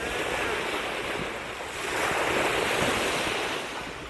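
Steady roar of surf washing onto Jomtien Beach, Thailand, swelling slightly midway, with some wind noise across the microphone and no voices.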